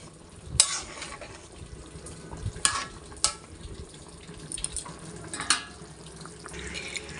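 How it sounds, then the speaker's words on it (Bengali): A spoon stirs a simmering dhoka curry in a pan, giving a soft bubbling sizzle punctuated by several sharp metallic clinks of the utensil against the pan. "একটু নেড়ে নিই।"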